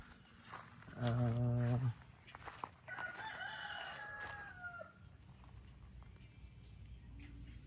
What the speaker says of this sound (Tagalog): ito yung manok